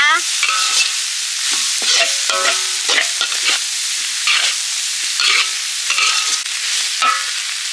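Cassia flowers being stir-fried in a pan, with a close, steady sizzle under repeated scraping strokes of a spatula against the pan, continuous and fairly loud throughout.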